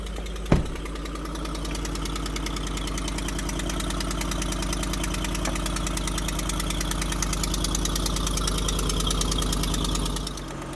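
A Ford Sport Trac engine idles steadily under the hood with a suspected exhaust manifold leak, a close, even mechanical drone with faint ticking and a sharp knock near the start, no voices.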